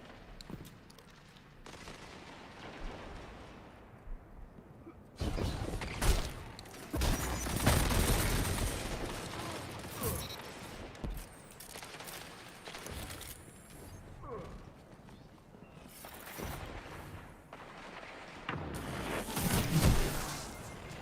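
Charge guns fire in a Destiny 2 match, heard as loud bursts and volleys of mechanical gunfire that come and go in waves over a busy battle bed, with no talking.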